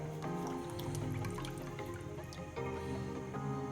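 A soft liquid trickle and drip of oil poured into a pot of water, faint and steady, with a light humming background.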